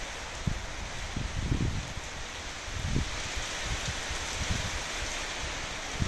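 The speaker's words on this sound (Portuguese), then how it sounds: "Olha, gente, a chuva. Tá caindo, ó. E chove bastante." Heavy rain pours steadily outdoors, a dense continuous hiss with low, irregular thumps rising through it, close and fairly loud throughout.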